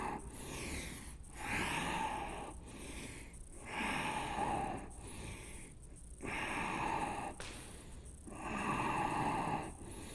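Deep breathing held through yoga locust pose: four or five long, noisy breath cycles with a rhythmic rise and fall, heard close and alone with no talking.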